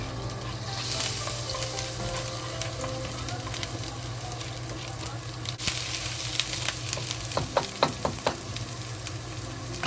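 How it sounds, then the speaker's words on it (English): Ginger sizzling in hot vegetable oil in a pot, a steady frying hiss with a low background hum, followed by a run of sharper crackles and pops toward the end. "When oil is hot, we add ginger to it."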